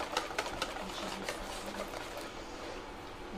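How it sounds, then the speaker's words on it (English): Mousse for a Fraisier cake being whisked by hand in a bowl, a fast steady rhythmic clicking and swishing, close and continuous with no talk. "everything that you're doing is about just whisking it and giving it lots of aeration"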